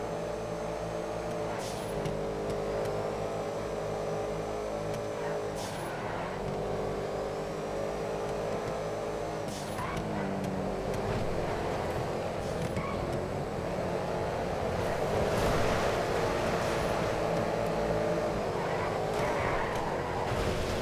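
A race car engine drones steadily in the FiveM racing game, a continuous loud hum with shifting pitch that swells toward the end, without any talk.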